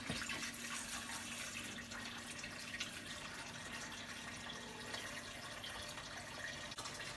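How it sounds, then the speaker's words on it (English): An electric pump draws water out of a cube aquarium, giving a steady, continuous watery gurgle and rush with a faint hum underneath, close and constant throughout with no talking. "So you just flip the switch and then it will suck out the water."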